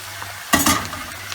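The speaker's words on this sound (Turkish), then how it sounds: "Hemen başamel sosumuzu da ekliyoruz." Béchamel sauce poured onto sautéed mushrooms with thyme in a hot pan and stirred, giving a sudden loud sizzle that fades into soft frying and scraping over about a second.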